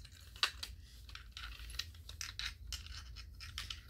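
Keys jingling and clicking in the lock of a fire alarm pull station as it is opened, a series of light close metallic taps and scrapes over a quiet room.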